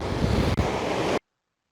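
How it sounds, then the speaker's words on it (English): Powerful ocean waves crashing on the rocky Cornwall coast, a loud, dense roar of surf mixed with wind buffeting that cuts off abruptly after about a second. "The waves are so powerful here."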